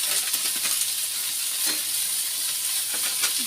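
Cumin powder being stirred into dalia khichdi frying in a pan: a steady bright sizzle with several soft scraping strokes of a spoon, close and clear.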